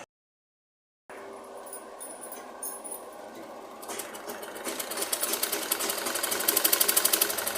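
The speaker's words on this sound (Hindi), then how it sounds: "उसके बाद देखती हूँ कैसे सिलाई दे रही मशीन।" Household sewing machine stitching after being set up, though it is not sewing properly; silent for the first second, then a steady mechanical whir that grows into a faster, louder rhythmic clatter toward the end, with no talk.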